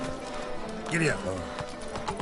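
Horse hooves clip-clop in The Witcher 3 as the mount sets off into a gallop, fairly quiet and mixed under voices and game sound.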